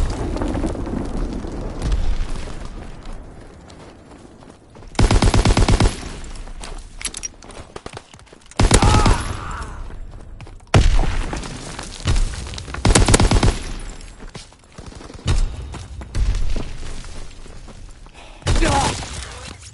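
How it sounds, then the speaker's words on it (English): Enemy bomb explosions and gunfire in a console video game, with repeated loud booming blasts and bursts of fire spread throughout, dense and chaotic, some rapid crackling volleys between heavier impacts. "Enemy bomb incoming. Get to cover."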